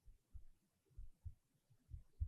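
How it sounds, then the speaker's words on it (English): A slow, steady heartbeat, soft low thumps in a regular rhythm, about seven beats, heard alone against near silence. "Do you hear my heart beating through my chest"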